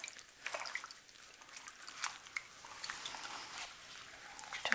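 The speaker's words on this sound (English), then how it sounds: "I'm going to take it, I'm going to submerge it." A garment is dipped into and lifted from a liquid dye bath, giving faint wet splashes, drips and squishy trickling in an irregular flow, heard up close and quietly, with no voices.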